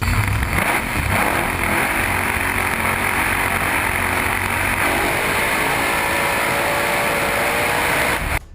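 A race car engine screams at high, steady revs as it runs in high gear, loud and close throughout with constant mechanical whine and no voices.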